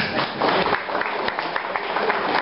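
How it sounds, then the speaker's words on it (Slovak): An audience applauds to welcome children dressed as Indians at a village citizens' gathering, a steady dense clapping from a crowd lasting the whole short stretch. "Přivítejte proto svým potleskem indiány"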